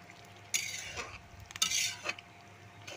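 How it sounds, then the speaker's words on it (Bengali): A spoon stirs fish curry gravy with cumin paste in a pan, soft scraping strokes and light clinks over a faint bubbling simmer, close and quiet, without talk. "একটু জিরা বাটা দিয়ে ঝোলটাকে একটু নাড়াচাড়া করব।"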